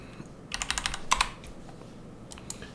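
Quick run of close computer keyboard keystrokes while typing a node name in Houdini, crisp clicks in a short cluster over faint background hum.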